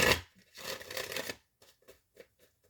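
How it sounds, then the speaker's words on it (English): A deck of tarot cards is shuffled close up, first a quick riffle, then a longer flurry of shuffling, followed by several soft, separate taps as the cards settle. "We'll do one more shuffle."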